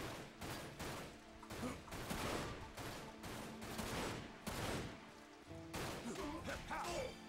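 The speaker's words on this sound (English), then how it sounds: "Oh, machine gun bullets." Rapid machine gun bullets fire in a video game, dense bursts of shots spread across the whole stretch with a few short gaps, loud and close, with game sounds mixed in.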